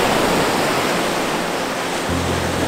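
Ocean surf on the beach at Anna Maria Island, a loud, broad, steady wash of waves close by, with a low rumble entering near the end.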